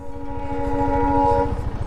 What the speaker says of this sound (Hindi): भाई ट्रेन तो आ गई।